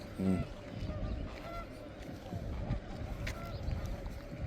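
A flock of birds honks as it flies together over a desert lake, with repeated calls close by amid steady outdoor background noise.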